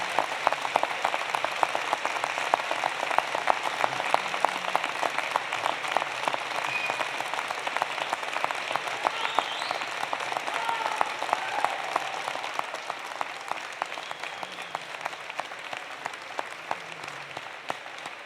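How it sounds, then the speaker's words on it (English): Sustained applause from a large standing crowd at a university convocation, steady and dense clapping that continues at an even level throughout, with faint voices mixed in. "stand up and give them a huge round of applause"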